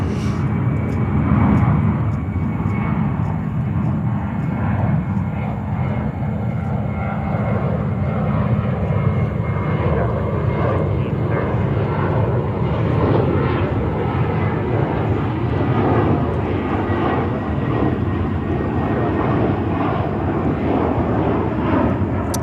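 A jet airliner landing on a runway at JFK airport in New York, a steady loud broadband engine roar that holds throughout at close range with no pause.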